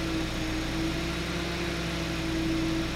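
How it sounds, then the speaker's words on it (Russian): A 2012 Hyundai Solaris petrol engine idling at about 900 rpm with fluctuating revs and an untrained throttle body: a steady close mechanical hum with a faint rhythmic pulse, no voices. "Держит где-то 900 оборотов, обороты плавают."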